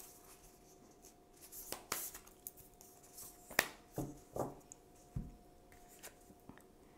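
Tarot cards being shuffled and drawn, a quiet close sequence of soft papery slides, flicks and taps coming in irregular bursts with no one talking.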